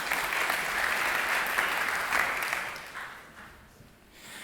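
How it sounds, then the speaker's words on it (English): Steady applause from a TEDx audience, loud and sustained, thinning out toward the end before picking up slightly again. "Applause is for you."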